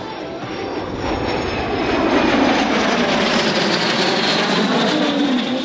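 Aircraft built by Aero Vodochody fly at an air show over Holíč, their engines making a broad droning roar that swells in the first two seconds and then holds steady and loud overhead.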